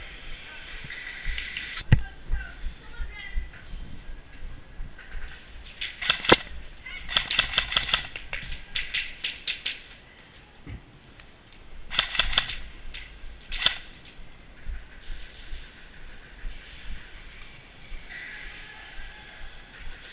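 Airsoft guns firing during a skirmish game outdoors, sharp snapping shots in scattered bursts with a few quick volleys, players shouting and talking between exchanges.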